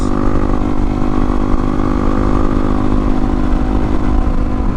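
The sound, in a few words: low-power motorcycle riding on winding roads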